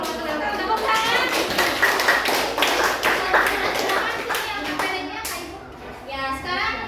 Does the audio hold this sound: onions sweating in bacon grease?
no